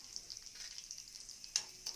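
Quiet, steady sizzling of mustard seeds and urad dal spluttering in hot oil, with a couple of sharper pops near the end.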